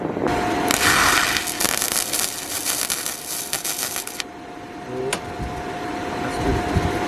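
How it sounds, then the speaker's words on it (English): Test welds laid on a piece of scrap metal, a loud continuous crackling buzz that runs steadily for about four seconds and then cuts off, followed by faint shop clatter. "We're doing like test welds on this piece of metal"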